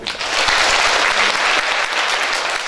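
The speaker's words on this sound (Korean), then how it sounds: "큰 박수 부탁드립니다" Steady, dense applause from a large crowd at a district office's New Year opening ceremony, loud and continuous throughout with no talking over it.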